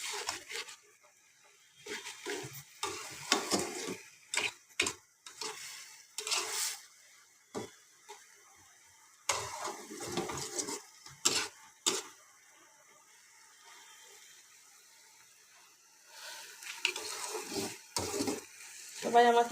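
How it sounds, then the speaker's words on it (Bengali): Dal fries in a pan while it is stirred, making bursts of sizzling and scraping that come and go with quiet gaps between them, heard close up. "এটা একটু ভেজে নিয়ে তারপরে আমি ঝোলটা দিব।"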